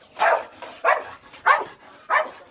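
A dog barks four times at an even pace, loud and fairly close, with short gaps between each bark.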